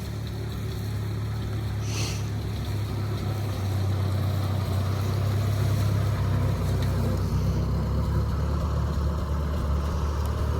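A 1955 International 300 Utility tractor engine runs steadily close by, a loud, even low rumble that holds throughout with no talking.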